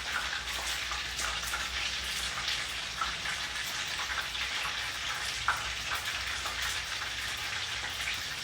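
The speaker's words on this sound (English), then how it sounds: "the only reason I've brought out the little fryer tonight is so you guys can see and be involved" Food frying in oil in a small deep fryer, a continuous dense crackling sizzle with scattered pops, close and steady throughout, with no voices.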